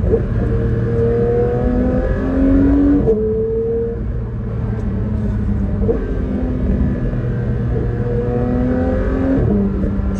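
A convoy of Porsches on a police-escorted rally accelerates hard, engines revving up through repeated gear shifts in rising, falling sweeps, loud and close, with no voices.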